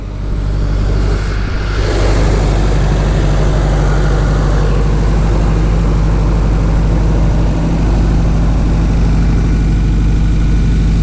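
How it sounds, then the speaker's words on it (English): A Toyota truck's 22RE engine idles loud and close, a steady low rumble with a noisy mechanical ticking on top, running alone without speech. "Noisy 22RE."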